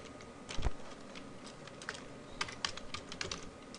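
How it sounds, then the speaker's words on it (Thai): Keystrokes on a computer keyboard while editing text in store cooperative software, a quiet, irregular patter of clicks with a heavier knock near the start and faster bursts later. "ถ้าต้องการแก้ไขก็คือคลิก แล้วก็สามารถ พิมพ์แก้ไขลงไปได้เลยครับ"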